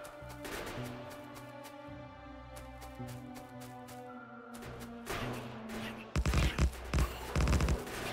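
Turrets in Factorio firing in rapid, repeated bursts, fairly faint game gunfire with rhythmic cracks, growing denser and louder toward the end, under some background game sound.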